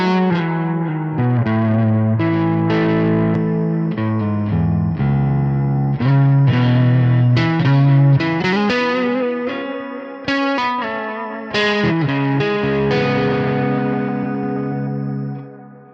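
Electric guitar played through a Neural DSP Nano Cortex pedal with a little drive added, giving a lightly distorted, chorused and echoing tone as chords and single notes ring out, loud and with no talking.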